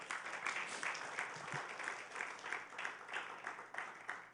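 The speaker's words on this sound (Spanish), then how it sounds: "denle un aplauso al Señor fuerte" Church congregation clapping loudly together, a steady, fairly even patter of many hands in a hall that continues for several seconds with slight swells.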